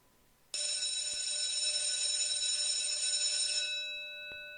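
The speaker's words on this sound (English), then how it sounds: "Finally, the school bell rings and it's time for the club." An electric school bell in the game Doki Doki Literature Club rings in one steady, bright, metallic trill for about three seconds before tapering off, with no voices over it.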